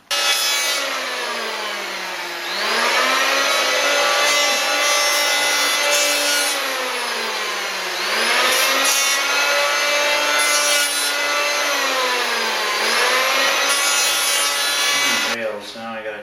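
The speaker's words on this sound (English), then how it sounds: "I'm going to do a little bit of planing on the edges first" A hand plane shaves the edges of a cedar wakesurf board held in a table vise, long rasping strokes repeating in a slow rhythm, close and loud, each pass rising and trailing off.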